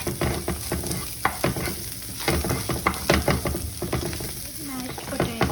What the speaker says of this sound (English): I've added salt and green coriander leaves in it, and I'm mixing them all together